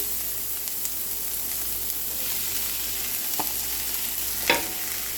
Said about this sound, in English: And now we're just going to add in our peppers.